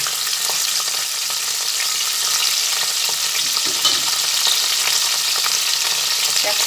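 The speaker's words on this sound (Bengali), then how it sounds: "কড়াইতে যে তেল আছে সেই তেলের মধ্যেই আমি ক্যাপসিকামগুলো দিয়ে ভেজে নিচ্ছি।" Capsicum frying in hot oil in a kadai, a steady, dense sizzle that stays close and even throughout with no voices.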